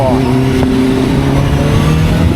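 Loud, close engine drone of a CFMOTO 750SR motorcycle accelerating on a ride, its tone held steady with a slight rise in pitch under wind noise.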